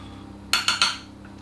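Three quick clinks of a spoon against a baking dish as green beans are stirred to coat them for a green bean casserole, evenly spaced and close, in an otherwise quiet kitchen.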